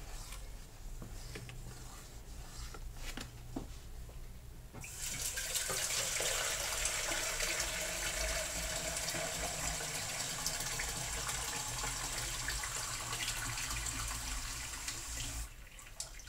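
Two liters of water pour into a liquid soap mixture, a quiet steady splashing stream starting after a few seconds of faint background and running on for about ten seconds before stopping.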